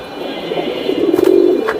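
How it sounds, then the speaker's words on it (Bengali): A male Aluminium pigeon coos up close, a loud, low throbbing call swelling in the second half over a faint background hum. "এটা অ্যালুমিনিয়াম একটা নর কবুতর ভাই"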